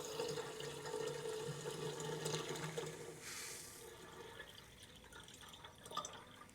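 Water pours and trickles into the radiator of a Farmall Super C tractor, a soft, steady splashing flow that eases off toward the end, faint and close with no talk.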